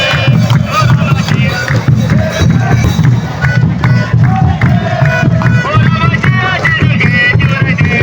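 Dense, loud crowd noise fills a live Thai football match at Bang Mod's Chaloem Phrakiat stadium during a championship game, with continuous chanting, drumming-like pulses and cheering throughout.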